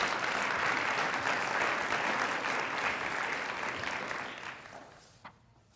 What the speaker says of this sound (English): How about another round of applause for Brian Hendrickson and his good work?